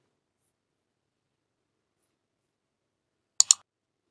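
A double mouse click powering on a VMware virtual machine, two crisp quick clicks close together near the end of otherwise silent recording.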